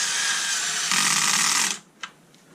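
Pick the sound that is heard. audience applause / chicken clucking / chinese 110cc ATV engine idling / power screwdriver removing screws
power screwdriver removing screws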